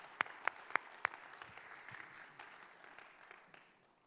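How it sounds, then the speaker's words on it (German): A conference audience applauds, soft continuous clapping in a hall with several crisp, close claps at the start, the whole sound gradually thinning and fading out toward the end. "lasst uns mal einen Applaus geben"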